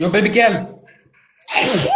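A woman sneezes loudly and sharply up close, a single explosive burst after a short gasping inhale, with someone talking just before it.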